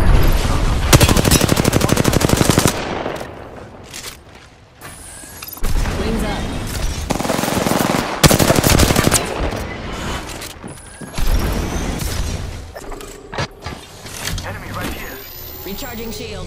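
Bursts of gunfire aimed at the player in Apex Legends, loud rapid volleys interspersed with mechanical clicks and brief pauses, with voice chatter between the shooting.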